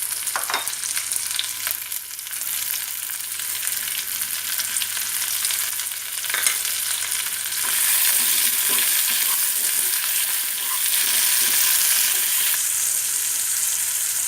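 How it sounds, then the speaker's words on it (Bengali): Pumpkin simmers in a pan with a little water and salt, giving a steady, close sizzle and bubbling, broken by scraping stirs and occasional clinks of the utensil. "মিষ্টি কুমড়াটাকে একটু অল্প পানি দিয়ে সেদ্ধ করে নিচ্ছি।"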